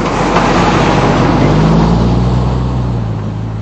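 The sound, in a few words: lorry driving past on the road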